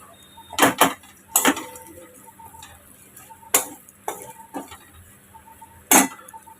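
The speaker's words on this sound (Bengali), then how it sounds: "এর মধ্যে পেঁয়াজ দিয়ে দেবো" Onions go into a pan of ginger, garlic and chili spice paste for a Bengali banana-stem dish, followed by sharp, separate clinks and scrapes of a metal utensil against the pan, irregular and close, over a quiet background.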